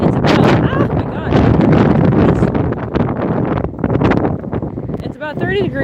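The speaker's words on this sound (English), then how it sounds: "Yeah, it is quite windy." Strong wind in Jersey buffets the microphone with a steady roaring rush, gusting throughout.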